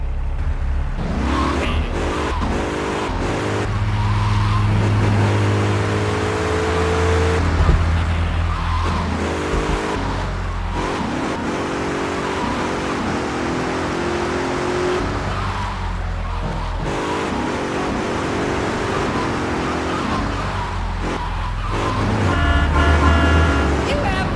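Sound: car driving in Grand Theft Auto III video game

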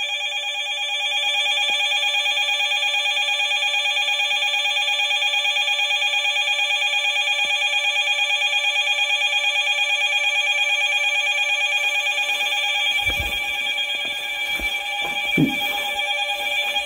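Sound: telephone ringing

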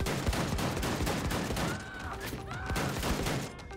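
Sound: shotgun gunfire in Wolfenstein II video game

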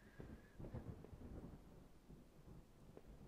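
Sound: thunder in the video game Home

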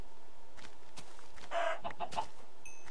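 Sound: chicken clucking in a video game

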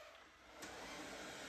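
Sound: Samsung Bespoke Jet Bot Combo robot vacuum running

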